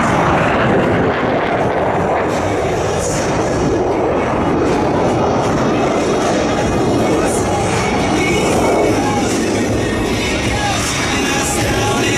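US Navy Blue Angels jets at the California Capital Airshow make an opposing knife edge pass, a loud continuous roar of jet engines blended with crowd noise, while a voice talks over it.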